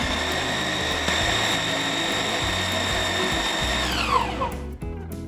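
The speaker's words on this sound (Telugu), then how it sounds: "ఇప్పుడు దీన్ని మిక్సీ పట్టుకుంటాం." A mixie grinder blends chicken paste with white pepper, ginger-garlic paste and soy sauce, running as a loud, steady, close motor whine that spins down and stops near the end, followed by brief clatter.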